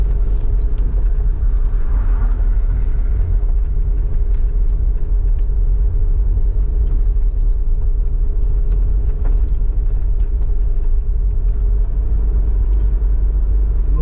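A car engine labors up a steep hill in Mandeville, Jamaica, a steady loud low rumble with a droning hum that runs on without a break.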